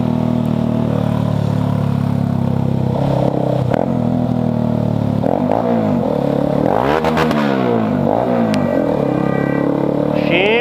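Motorcycle riding through heavy city traffic in the rain, its engine a loud, continuous drone with rising and falling revs as the bike weaves, surrounded by nearby vehicle noise and wind buffeting.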